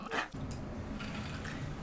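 A small dog named Lily gives a sharp bark or two up close, then a quieter yelp, against low indoor room hum.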